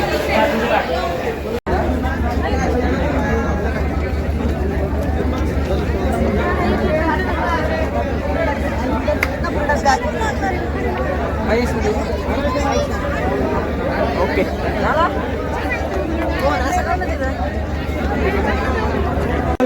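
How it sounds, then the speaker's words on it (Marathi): A dense crowd fills Beed railway station on its opening day with constant overlapping chatter, a loud, close babble of many voices heard from inside a waiting train. "बाहेर खूप गर्दी आहे अतिशय खूप गर्दी"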